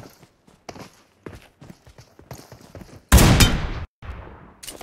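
A loud burst of rapid gunfire rings out in the mobile game PUBG Mobile, lasting under a second, after a run of quieter rhythmic footstep-like taps.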